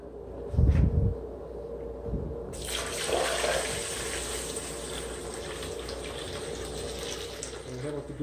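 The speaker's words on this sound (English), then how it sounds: "now we're gonna go ahead and put the kombucha in using the funnel" Kombucha pours through a funnel into a keg as a steady liquid rush, close and continuous, following a brief low thump and knock at the start.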